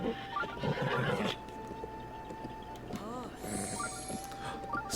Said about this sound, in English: Sparkly horse.